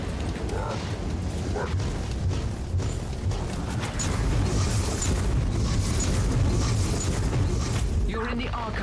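Fire Pillar psychic ability erupting in Warhammer 40K: Inquisitor - Martyr, a loud continuous roaring, booming blast with crackling bursts that swells around the midpoint and holds steady throughout.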